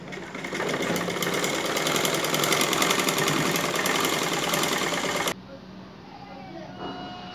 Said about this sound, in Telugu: ఈ విధంగా స్టిచింగ్ చేసిన తర్వాత మళ్ళీ పైన గాన కుట్టేసుకుందాం ఇట్లా